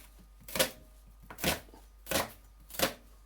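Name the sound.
knife dicing an onion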